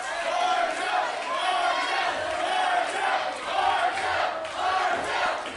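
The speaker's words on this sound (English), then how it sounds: "And Martel has this crowd firmly behind him here at the Cope." Wrestling crowd at an arena event cheering and roaring loudly and continuously, a dense wash of voices that swells and dips slightly without pause.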